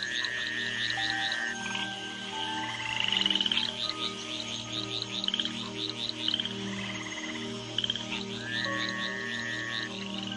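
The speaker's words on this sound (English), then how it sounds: "In the wake of the rains, the tree frogs gather for bouts of communal cuckling." A chorus of tree frogs croaking together after rain, with many overlapping calls rising and falling in trills and whistles over a steady low droning pulse, continuous and fairly close throughout.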